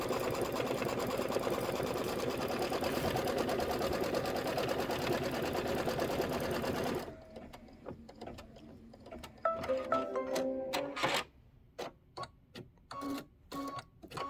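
An embroidery sewing machine runs a quilting stitch on a Kimberbell Cup of Cheer project, a fast, even mechanical whir for about seven seconds, then stops and gives short bursts of stitching with clicks and pauses.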